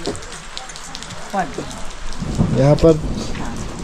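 Steady rain patters in the background while people talk nearby at a village gathering, with some chatter and a few voices rising over the downpour.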